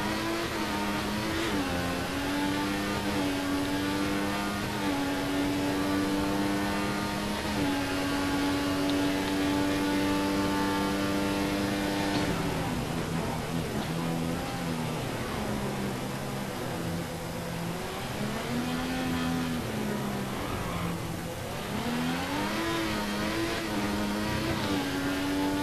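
Formula 1 cars in the F1 2014 racing game, set at the Malaysian Grand Prix, scream past on the front straight, their high-pitched engines rising and falling as several pass in succession, loud and continuous with no talk.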